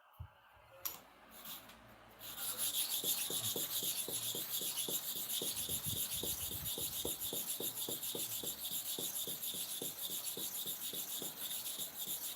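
Hair clipper blade sharpened by rubbing, a steady gritty rasp running continuously after a brief quiet start, with faint rhythmic strokes underneath.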